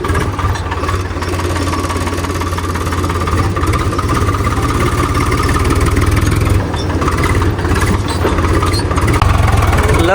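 A Mahindra 735 tractor engine runs steadily in a wheat field during sowing, a loud, close, continuous low rumble with a throbbing idle-like rhythm, no talk.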